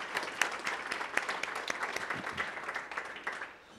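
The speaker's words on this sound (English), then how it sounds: "please give Tim Duran a round of applause." An audience at a city State of the City event gives a steady round of applause, a dense patter of many hands clapping at moderate loudness that tapers off near the end.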